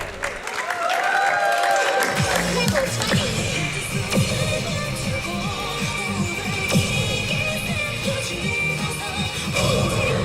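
A live audience cheers and applauds at a Pump It Up Phoenix rhythm game showcase during a speedrun marathon event, loud and sustained over thumping music, with scattered shouts throughout.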